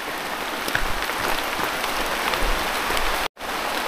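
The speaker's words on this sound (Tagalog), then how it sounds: "Lakas ng ulan." Heavy rain pours steadily on a mountain trail near a river, a dense, even hiss of drops on surfaces with a few louder splats, broken by a brief dropout near the end.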